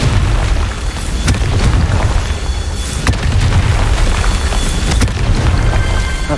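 Repeated Confringo blasts in Hogwarts Legacy rumble over a steady crackling hiss, with several sharp detonation snaps spaced a second or two apart, loud and close.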